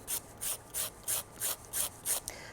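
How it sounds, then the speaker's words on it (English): A charcoal stick is rubbed back and forth across sandpaper in seven even, rhythmic strokes, each a close, gritty rasp separated by brief pauses. "just rubbing the charcoal across a piece of sandpaper"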